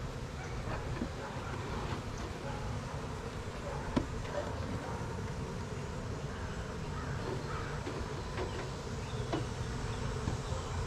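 Honey bees hum steadily around their hive, a soft continuous drone with individual bees buzzing past, faint crow caws in the background.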